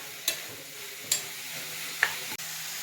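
Squid roast with onion and tomato stirred in a pan: a soft, continuous sizzle with a few sharp spoon taps and scrapes against the pan, close by and without talk.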